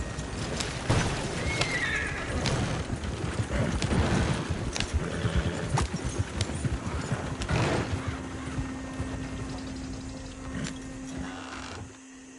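A horse in Red Dead Redemption 2 whinnies loudly up close, with clip-clopping hooves and mechanical game sounds around it, then a steady low hum as the motion fades near the end.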